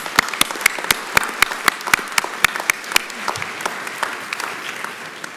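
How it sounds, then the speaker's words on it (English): A ceremony audience at a congressional awards event applauds the parents, a sustained crowd clapping with sharp individual claps standing out in a fairly regular rhythm, moderately loud and without speech. "A round of applause for the parents and others who have helped."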